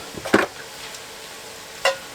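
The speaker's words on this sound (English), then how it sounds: "We're going to go ahead and throw the veggies on." Vegetables including green and red pepper, onions and garlic go into a cast iron pan of cooking meat, giving a brief clattering rustle and a short sizzle, then a second quick burst of the same.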